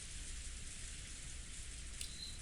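Wind-driven rain from a late-season typhoon lashing a mansion's rose garden in the visual novel Umineko, a steady, dense hiss of downpour with no talk over it.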